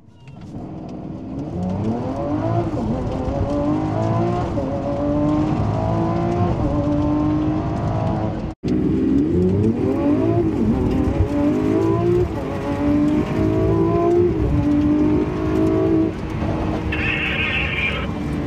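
A Lamborghini Aventador SVJ launches hard in a drag race, its loud V12 howling up through rapid rising gear sweeps, a brief cut at the shift, then pulling again with sustained roar and a faint squeal near the end.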